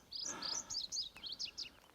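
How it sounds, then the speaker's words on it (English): Several birds chirp and whistle in quick, bright bursts, faint and somewhat distant, on a mountain trail at dawn with no voices. "Birds woke up about 5:15."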